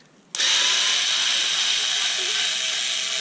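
A Ryobi cordless drill kicks in after a short pause and whirs steadily at high speed, close up, while backing screws out of a large lantern torch.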